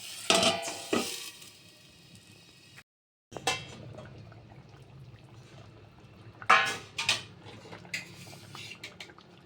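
A lid clatters onto a cooking pot of katla fish curry with taro and potatoes, with a bright metallic clank at the start, a brief silence, then more rattling knocks later.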